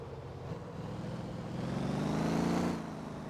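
A Porsche engine in the video game Motor Town hums and revs up briefly, rising in pitch before easing off, a smooth synthetic-sounding motor drone.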